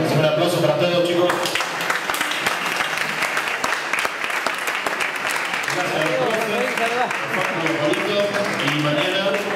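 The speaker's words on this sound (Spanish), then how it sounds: "Un aplauso para todos, chicos." An audience at a school music recital of the Cueca de los coyas dance breaks into steady, sustained clapping that stays loud and close, with voices mixed in under it.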